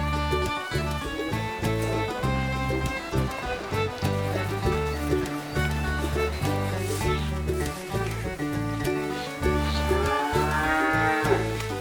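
Dairy cows on a farm moo loudly and repeatedly, long drawn-out calls overlapping one another nearby.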